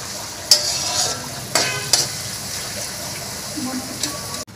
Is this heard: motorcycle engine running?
no